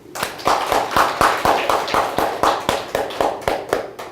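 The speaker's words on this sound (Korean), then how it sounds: "우리 청년들에게 그런 사람 될 수 있도록 격려 박수 한번 합시다" Church congregation clapping together in steady, rhythmic unison to encourage the young people, about two claps per second, sharp and fairly close, with no talk over it.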